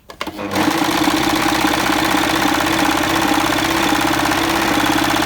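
A Bernette b44 overlock machine starts up and runs at a steady, fast, even whir, loud and close with no talking, stitching thin scarf fabric.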